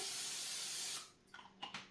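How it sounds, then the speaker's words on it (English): PAM cooking spray hisses in one steady, close burst of about a second into an air fryer, then gives way to faint clicks and handling sounds. "get our PAM cooking spray, go ahead and spray down our air fryer"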